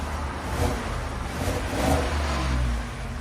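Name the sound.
Ford F-150 5.0 Coyote V8 engine revving, stock exhaust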